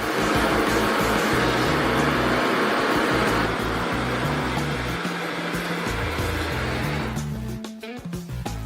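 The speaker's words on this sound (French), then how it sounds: "Nous allons maintenant chauffer la bouteille à l'aide d'une torche jusqu'à ce que le verre soit chauffé et devienne souple et flexible" A blowtorch roars steadily while heating a glass bottle until the glass softens, a loud continuous rushing hiss that thins out and breaks up near the end.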